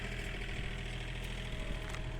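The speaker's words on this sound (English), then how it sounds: "Hopefully I'm talking loud enough that you can hear me over the tractor" A tractor engine runs steadily close by, a continuous low idling rumble with a mechanical vibration that holds without a break.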